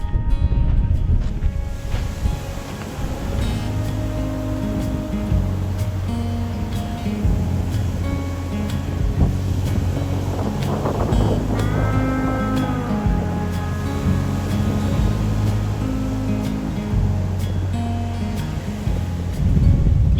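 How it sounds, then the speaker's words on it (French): Strong wind near a lighthouse on the Namibian coast, a constant loud roar and rumble of gusts buffeting the microphone for the whole stretch, with no voices heard. "Je pense qu'on entend combien de vent il y a."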